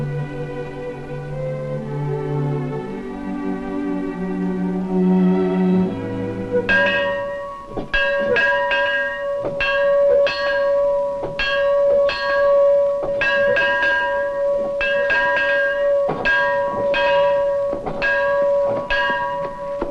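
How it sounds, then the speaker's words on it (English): A church bell rings out in repeated, evenly spaced strokes, loud and resonant, following a brief stretch of low tonal sound before the ringing begins. "I come as soon as I hear the bell."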